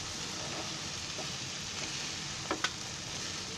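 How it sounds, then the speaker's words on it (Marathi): Cooked val bean and peanut vegetable stirred in a pan, a steady soft sizzle with a couple of brief scraping clinks near the end, no talking. "आता मी ती हलवते बघा."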